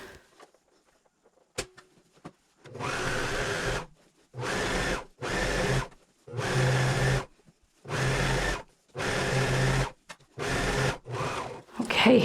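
A sewing machine chain- or stretch-stitches around an elastic waistband on a pair of pants, running in about eight steady bursts of a second or so each, with short pauses between, close and fairly loud.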